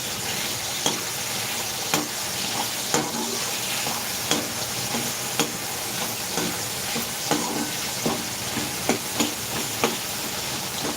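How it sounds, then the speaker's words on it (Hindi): Potatoes frying in a pan in a home kitchen: a constant dense sizzle punctuated by regular spatula taps and scrapes about once a second, close up and with no talking. "बस ये आलू फ्राई कर दूं बस।"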